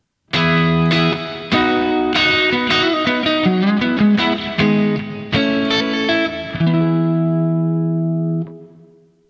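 A Stratocaster-style electric guitar through an amp with boost and reverb plays a slow sequence of ringing, slightly overdriven notes and chords, the last chord sustaining and fading out.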